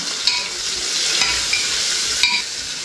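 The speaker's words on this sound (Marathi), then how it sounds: "आता इथे मी कांदा टाकते, एक बारीक कांदा चिरून घेतलेला" Finely chopped onion fries in hot oil in a pan with a loud, continuous sizzle, broken by a few sharp scrapes and clinks of stirring; no one speaks.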